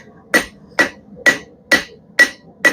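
A blacksmith hammers a hot steel taper for a chain hook fresh from the forge: six sharp, ringing hammer blows land at an even, brisk rhythm, close and loud against a quiet background.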